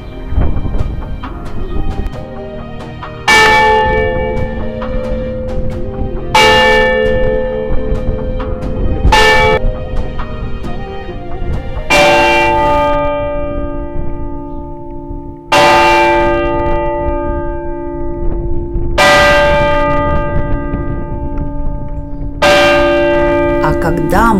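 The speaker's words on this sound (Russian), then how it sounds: "В любой момент может быть 45-минутный звон." Church bells ring in a bell tower in Gozo, Malta, with about eight loud, resonant strikes heard from close by, each left to ring out over a low rumbling background.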